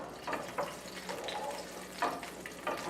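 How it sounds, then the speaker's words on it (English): Garlic and olives sautéing in olive oil in a skillet over medium-high heat, a soft sizzle broken by several bursts of stirring and spattering, fairly quiet and without speech. "we're gonna saute garlic with the olives"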